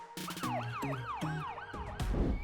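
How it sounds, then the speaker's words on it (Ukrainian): A toy police car's electronic siren wails in rapid, repeating up-and-down sweeps, loud and close with a tinny edge, running alone for a couple of seconds before a burst of rustling noise at the end. "а на багажнику встановлено поліцейську сирену"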